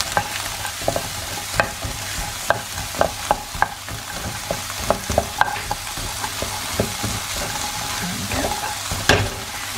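Garlic stirred into onions frying in a pan for a vegetable and mince layered bake: steady sizzling with irregular scraping and clicking of the spoon against the pan, close up, with no talking.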